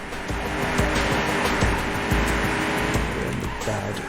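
Race car in the 1997 Windows racing game POD, a loud, sustained engine roar with repeated tire squeals and skidding throughout, close and constant, with faint speech underneath.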